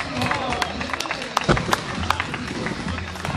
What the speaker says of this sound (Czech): velký potlesk, super jízda